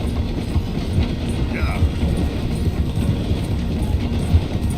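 A moving train in Red Dead Redemption 2 rumbles steadily with a continuous low clatter of rolling wagons, loud and close throughout, with no voices.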